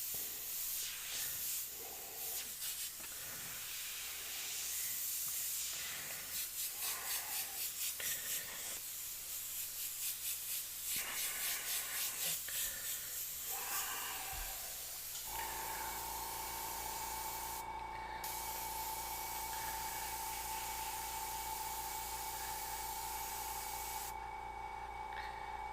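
An airbrush sprays paint in a long, close hiss that comes in pulsing bursts at first. It then settles into a steady, continuous spray with a faint humming tone underneath.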